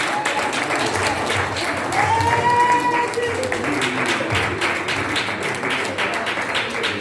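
A church congregation applauds the Lord after a prayer, a dense, steady round of clapping close by, with voices calling out and singing over it.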